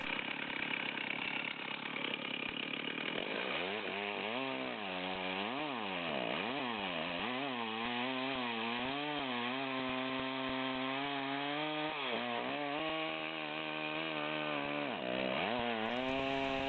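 A chainsaw runs steadily throughout, its engine revving up and down in repeated surges over a constant buzzing drone, close and loud.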